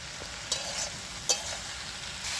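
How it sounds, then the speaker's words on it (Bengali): Ridge gourd fries in a wok with a steady moderate sizzle, interrupted by two or three brief spatula scrapes as it is stirred; close and alone, without speech. "চিচিঙ্গাটা আমার ভাজা হয়ে গেছে"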